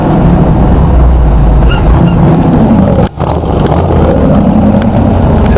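Chevy engine running after a carburetor rebuild, a loud, steady, rumbling idle close to the microphone, with one brief dip in the middle before the drone resumes.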